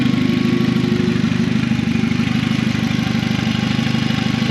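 A 20-valve turbo VW Caddy engine runs at a steady idle, a close, even mechanical drone with a fine rapid pulse and no change in speed or load.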